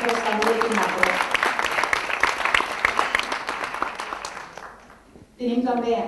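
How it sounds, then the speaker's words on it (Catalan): Audience applause at a cultural panel discussion, a steady wash of clapping for about five seconds that fades out, then a voice speaks briefly at the end. "Un aplaudiment per Eduard Carmona"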